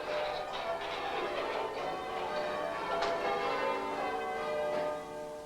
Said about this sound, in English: A peal of 8 bells are about the best in the county.